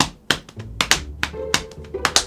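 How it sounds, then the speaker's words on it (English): A recorded drum part for a jingle with a Western feel plays as a sparse pattern of sharp, dry hits. Uneven beats with short ringing tails stand alone, close and clear, with no voices. "This is what was recorded for the drums."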